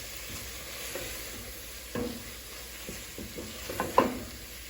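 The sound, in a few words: stirring spices with tomatoes in a pan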